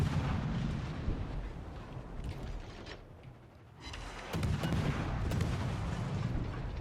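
Torpedo hits and explosions in a naval warship video game, heard as heavy rumbling booms that build in layered blasts. The blasts dip briefly to a quieter stretch midway, then surge back to a loud sustained roar, with no voices.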